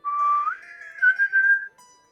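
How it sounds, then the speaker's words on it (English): A bosun's pipe sounds above deck on a ship: one shrill, sustained piping note that holds steady, then lifts and warbles for about two seconds before cutting off, clear and alone with no talk. "you hear a bosun's whistle"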